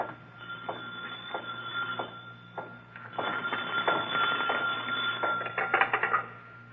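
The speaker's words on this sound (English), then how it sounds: "Suddenly, a phone rings on the desk of the night watchman" An old-time radio drama telephone on a night watchman's desk in a city museum rings in repeated bursts, a loud bell sound that grows denser toward the end with no voices over it.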